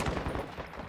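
Rapid bursts of automatic gunfire crackle through a Modern Warfare 2 multiplayer match, sounding somewhat distant and muffled amid the steady game background.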